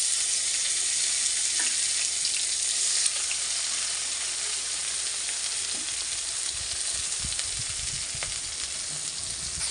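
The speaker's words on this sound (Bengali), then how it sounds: "এবং চিংড়ি মাছগুলো ভেজে দেবো।" Shrimp fry in hot oil in an unwashed wok, giving a loud, steady, continuous sizzle throughout with no voices over it.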